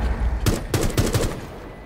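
Gunfire in Rainbow Six Siege: a quick volley of four or five sharp, loud shots in close succession, followed by a fading tail of ambient game noise.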